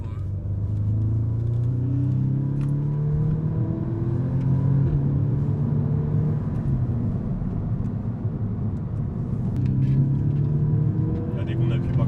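The Audi S3 8V's 310 hp engine hums as a low, steady rumble from inside the cabin, building under acceleration while people talk over it.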